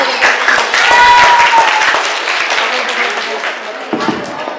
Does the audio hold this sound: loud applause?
yes